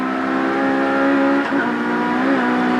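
A 1990 British Touring Car Championship race car at Oulton Park downshifting into third gear, a loud steady engine drone with a brief dip and blip of revs as the gear changes, then holding a strong tone.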